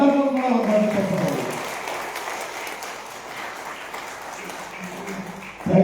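Audience applause in a hall at a clubs' district association event, steady clapping that slowly fades, with a voice speaking over the start.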